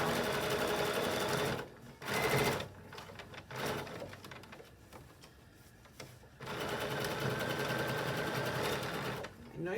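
A sewing machine stitches and gathers garment fabric in bursts of steady, fast whirring, stopping and restarting several times, with a person talking quietly in the pauses between runs.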